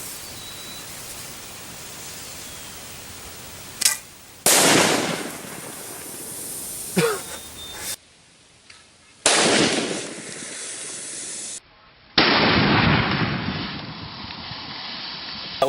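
Homemade 12 gauge exploding arrows detonate against soda targets outdoors. Several sharp, very loud blasts ring out at irregular intervals over steady wind-like noise, each one followed by a brief rushing decay.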